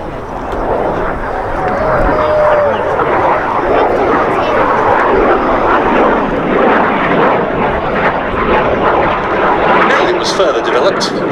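A Jet Provost jet trainer flying past at the Duxford Air Festival, a loud sustained engine roar that holds steady for several seconds, with a commentator talking over it on the public address.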